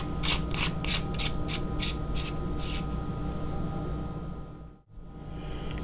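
The battery cap of a Feyachi rifle scope is screwed back on. It gives about seven quick, rhythmic rasping twists up close, followed by quiet handling.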